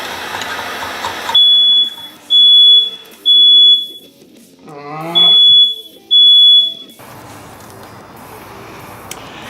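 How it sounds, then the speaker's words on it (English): A smoke alarm goes off upstairs in a house, sounding a series of loud, piercing high beeps in repeated bursts with brief gaps, heard somewhat muffled from another floor over light background noise. "obviously you heard the smoke alarm go off upstairs"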